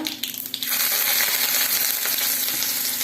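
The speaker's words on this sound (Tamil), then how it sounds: "கடுகை போட்டுடலாம். கடுகு வடிக்கட்டும்." Mustard seeds spluttering in hot oil for South Indian coriander leaf rice: a few sharp pops at first, then a dense, steady crackling and hissing that stays loud and close to the end.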